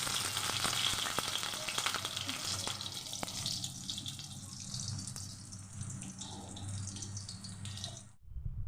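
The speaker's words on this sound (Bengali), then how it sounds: "ভাজা ভাজা হয়ে যাচ্ছে।" Vegetables frying in a pan, giving a soft steady sizzle and hiss that fades gradually and is close but quiet, with no voices.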